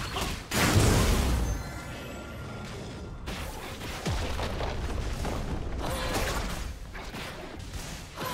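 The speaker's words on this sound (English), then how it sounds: "Red Team's turret has been destroyed." A turret in League of Legends is destroyed with a loud booming crash and crumbling debris, followed by a rumbling collapse and a second burst of impact noise.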